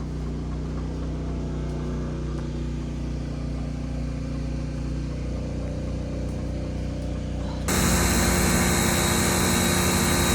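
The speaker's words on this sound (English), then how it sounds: "power washing right now the excavator." A steady mechanical drone of a pressure washer cleaning an excavator runs throughout, growing louder and harsher near the end as the spray hits closer.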